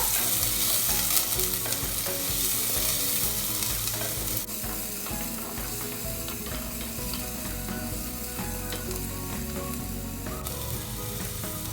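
One chopped onion sizzling steadily in a hot pan while being stirred, the frying loud and continuous with music playing underneath throughout.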